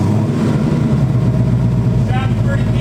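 A 2018 Mustang GT with its stock exhaust, before a Corsa catback is fitted, idles with a steady, deep rumble close by, and voices can be heard over it.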